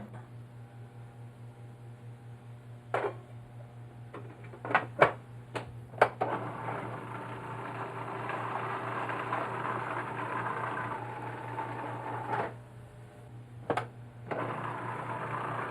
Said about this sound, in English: Remember that a food processor is heating, therefore cooking the contents, so do not process too long or the mousse separates